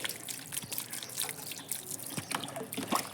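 Water from a foot-washing spot at a house trickles and splashes steadily down a drain close by, a continuous wet rushing with small drips and gurgles, no voices.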